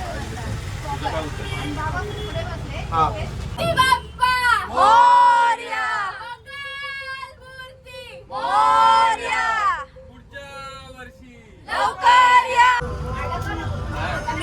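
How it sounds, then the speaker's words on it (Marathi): A dense festival crowd at a Maghi Ganesh festival procession, with loud overlapping cheers and chanting rising and falling in bursts, accompanied by steady background roar and nearby talking. "फुल गर्दी"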